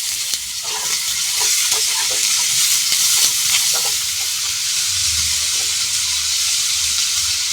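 Thin-cut potatoes and kundri frying in oil with black cumin and turmeric, a dense, even hiss of sizzling with light stirring taps underneath, close and steady, no speech.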